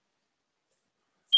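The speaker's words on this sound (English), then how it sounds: "See, Curtis, you haven't changed the battery in that smoke detector in a whole month. And we're hearing it" Smoke detector with a low battery gives a single short, sharp high-pitched chirp at the very end of an otherwise silent stretch.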